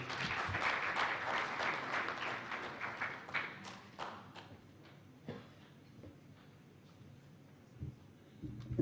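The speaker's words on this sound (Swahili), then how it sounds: "Makofi kwake tafadhali." Audience applause for the British High Commissioner at a Tanzanian World Press Freedom Day event, loud and dense at first, then thinning into scattered claps and fading out.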